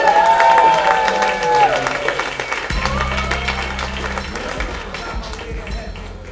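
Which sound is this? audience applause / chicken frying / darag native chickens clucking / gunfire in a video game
audience applause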